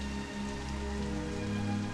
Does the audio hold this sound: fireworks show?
no